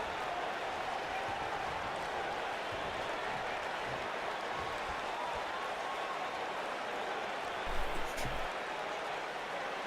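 A virtual arena crowd in the WWE 2K19 wrestling video game, in a New Mexico venue, keeps up a steady, fairly faint roar of cheering and applause beneath spoken commentary.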